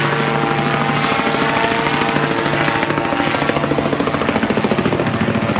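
A tourist helicopter flies over Pamukkale in Turkey, its steady loud rotor chop and engine whine continuous and close throughout.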